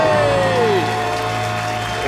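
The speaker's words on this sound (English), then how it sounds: "And the crowd goes wild." A studio crowd cheers and applauds after a debt-free celebration, with steady clapping and cheering under a talking voice and pitched vocal tones that rise and fall.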